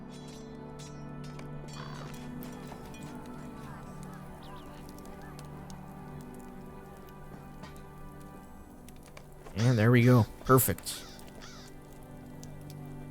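Birds honk loudly in a short flurry as they take off in the Dunland area of Lord of the Rings Online, rising over ambient game sound while someone speaks.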